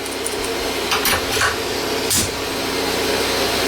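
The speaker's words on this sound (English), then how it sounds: "now I'm going to engrave. I've got a Tormac engraver" Tormach engraver cutting a panel top plate, a steady mechanical whir and hum of the spindle and machine running continuously, close and fairly loud, with a few brief scraping bursts.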